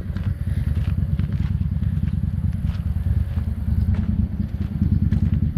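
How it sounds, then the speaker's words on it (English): A motorcycle engine idles slow and steady while warming up on a hot day, a close, continuous low rumbling throb with faint clicks and clatter over it and no voices. "I want to let it warm up for a couple of minutes, even though it's so hot out today. I like to have it idle, running slow"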